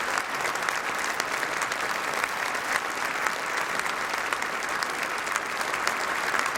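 Sustained, dense standing ovation for the Queen from a large crowd fills Westminster Hall, steady and loud throughout with no break.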